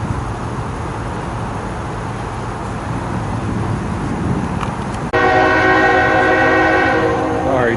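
Freight train Q300 rumbles while pushing back at Woodbourne station on the Trenton Sub, a steady low roar that swells before a loud, sustained horn blast cuts in near the end.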